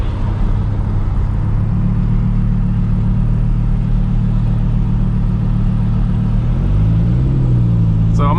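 A Lamborghini driving on winter roads, heard as a steady loud engine rumble and road noise from inside the car, with a brief rise in revs near the end.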